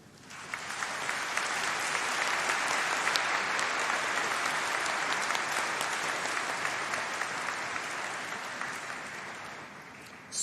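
Sustained applause from an audience fills a hall at a College of Arts and Law summer degree ceremony, a dense, even roar of many hands clapping for about ten seconds before tapering slightly at the end.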